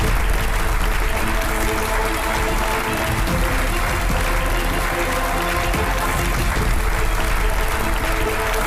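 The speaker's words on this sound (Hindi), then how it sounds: "जोरदार तालियां" A crowd claps in loud, sustained applause that stays steady and dense for the whole stretch.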